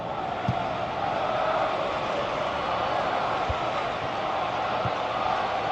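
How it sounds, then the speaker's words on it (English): A football stadium crowd at an FC Barcelona match sends up a steady, dense roar that fills the whole stretch, broken by a few low thumps. "you can feel and hear how the crowd are reacting to all of this"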